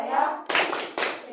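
Children in a classroom clap out the rhythmic Tepuk PPK chant, with sharp, close hand claps in quick bursts mixed with young voices.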